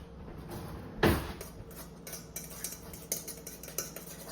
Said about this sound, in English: Just kind of mix that up, see if that's enough lime, see if that's enough salt